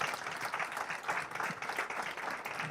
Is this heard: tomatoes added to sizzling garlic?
no